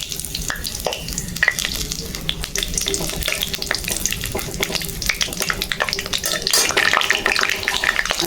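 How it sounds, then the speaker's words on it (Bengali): Three bay leaves sizzle and crackle in hot oil in a pan while ingredients for khichuri are prepared, a dense continuous frying hiss scattered with sharp pops and occasional utensil clicks. "তেল দিলুম বন্ধুগণ। আইজে দিলুম মুই তেজপাতা,"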